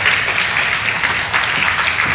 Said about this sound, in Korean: 나오실 때 우리 환영의 박수 크게 하도록 하겠습니다.